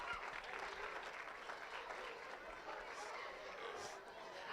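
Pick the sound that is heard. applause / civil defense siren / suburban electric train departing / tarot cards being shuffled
applause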